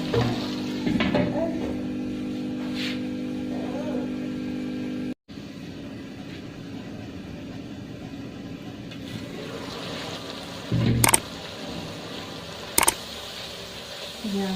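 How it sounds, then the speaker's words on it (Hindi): Tomatoes cooking in masala in a pan for potato and spinach curry, a soft continuous sizzle with occasional stirring scrapes and a couple of sharp metallic knocks near the end. "अब हम टमाटर डाल देंगे और इसको दोबारा से थोड़ी देर पकाएंगे।"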